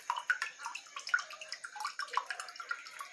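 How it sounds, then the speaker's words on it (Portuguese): Water from a dry, mature coconut pouring out, a thin splashy trickle and dribble with small drips, close and fairly faint. "Mais água de coco seco."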